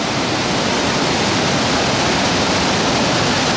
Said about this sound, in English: And these are the big falls.